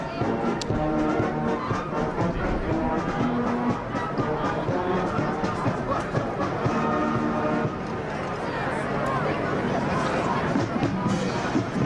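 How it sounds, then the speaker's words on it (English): Crowd at a night high school football game between Carthage and La Grange, a steady dense babble of many voices with nearby chatter and a faint band playing underneath. "Pretty good crowd here tonight for Bulldogs."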